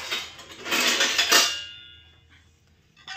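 Utensils are scrubbed and washed by hand, with clattering metal scraping and rubbing for about a second and a half, then quieting before a short knock at the end.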